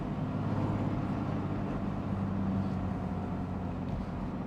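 A BMW F80 M3 with a built motor and EFR 9280 single turbo pulls steadily in third gear, a deep, even engine drone heard from inside the car, with no talk.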